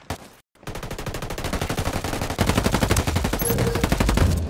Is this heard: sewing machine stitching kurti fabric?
no